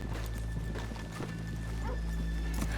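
Horses in the Red Dead Redemption 2 video game, with soft hoof clops and a brief neigh amid a low ambient game hum, fairly quiet.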